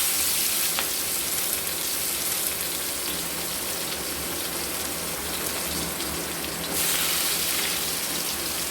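Chopped onion frying in hot mustard oil with cinnamon and cardamom, a loud, dense, continuous crackling sizzle that holds steady throughout.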